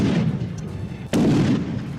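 Mortar blasts and gunfire on a battlefield in Yemen roar as a continuous heavy rumble with a sharp close crack near the middle, dense and loud throughout with no voices.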